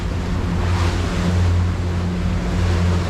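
Fishing boat engine trolling at raised RPM off the Florida Keys near Key Largo, a steady low droning hum with harmonic bands under loud wind and wave noise, continuous and close.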